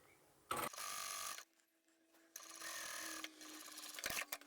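A sewing machine stitching two fabric pieces together for a patchwork quilted Christmas table runner, quiet and close, in three short bursts of rapid whirring separated by brief pauses.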